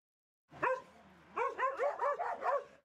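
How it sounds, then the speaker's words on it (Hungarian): Dogs waiting for new owners at an animal shelter in Szolnok bark in a quick volley: one bark, a short pause, then a rapid run of about five more, loud and close with no talking. "Csaholó gazdára váró kutyák a szolnoki állatotthonban."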